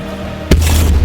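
A sudden loud explosion in Call of Duty 4 breaks the quiet of the game, a sharp booming burst followed by a lingering rumble.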